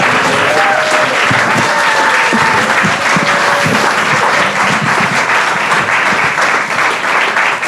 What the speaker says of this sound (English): we should all give them a big round of applause